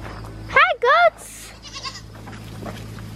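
Goats bleat close by in two quick, loud, wavering calls, followed by softer background bleats and a person speaking nearby.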